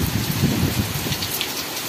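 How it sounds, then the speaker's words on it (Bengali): Heavy rain pours down outside in a dense, roaring downpour, a loud continuous wash of drops with a deeper rumble underneath and no voices. "এই যে ঝমঝম করে বৃষ্টি পড়ছে, বিশাল জোরে বৃষ্টি হচ্ছে বাইরে।"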